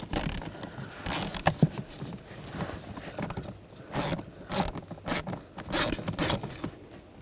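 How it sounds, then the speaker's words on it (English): Screws come out of a blower motor resistor on a 2009-2017 Volkswagen Tiguan, turned with a 6mm socket: a series of close, quiet ratcheting clicks and scraping bursts in irregular groups, with short pauses between them. "And there's some screws holding the resistor in. We're going to use a 6mm socket."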